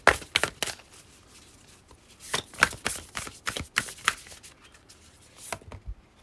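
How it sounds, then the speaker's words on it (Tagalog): Tarot cards shuffled by hand in a series of crisp riffling bursts and flutters, with brief pauses between, close and fairly loud, alone without talk. "Kukuha lang ako ng additional na baraha."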